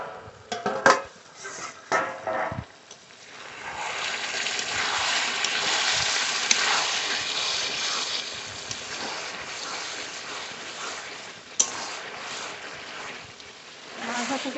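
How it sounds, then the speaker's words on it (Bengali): A pot lid is lifted and chicken is stirred in a pan for chicken kosha, with clinks of metal and scraping under a steady sizzle, plus a few sharper knocks near the start and later. "ঢাকনা তুলে মাংস নেড়ে নেব।"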